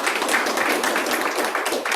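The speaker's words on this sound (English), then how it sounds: "Clap for him." An audience at a Srimad Bhagavat Saptaham religious discourse claps together, a brief burst of dense, scattered hand claps that fill the short moment.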